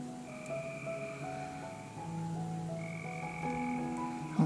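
A dense chorus of frogs croaking outdoors, many overlapping steady calls at different pitches, continuous and fairly close, with no talking.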